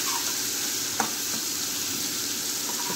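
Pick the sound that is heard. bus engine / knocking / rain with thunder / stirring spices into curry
stirring spices into curry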